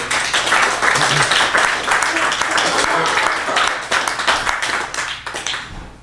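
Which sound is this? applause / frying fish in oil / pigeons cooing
applause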